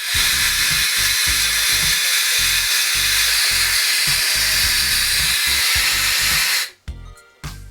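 Steam jets loudly and steadily from the blocked valve of a pressure cooker cooking duck with vegetables, a harsh continuous hiss that cuts off abruptly near the end, followed by a couple of brief bursts.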